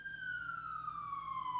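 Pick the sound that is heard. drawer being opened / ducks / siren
siren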